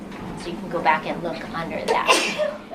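A single sharp sneeze bursts out in a dental junior clinic seminar room, rising briefly over a speaker's steady lecturing voice.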